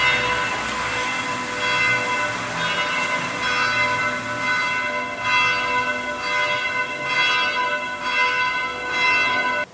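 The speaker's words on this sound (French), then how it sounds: "la cloche de l'église a sonné" A church bell ringing in repeated, resonant strokes with long sustained ringing tones, steady and fairly loud, with no voices.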